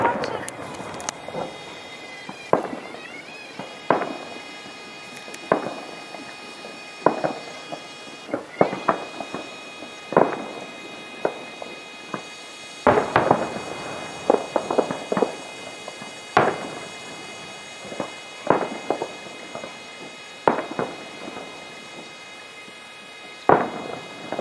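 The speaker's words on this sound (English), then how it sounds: "back to the fireworks" Sharp Fourth of July fireworks bangs and crackles go off irregularly at a distance in Laughlin, Nevada, some in quick bursts, while people talk faintly in the background.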